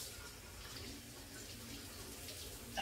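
Tap water runs steadily as potatoes and a kitchen knife are rinsed in a sink, making a soft, continuous splash that stays fairly quiet throughout.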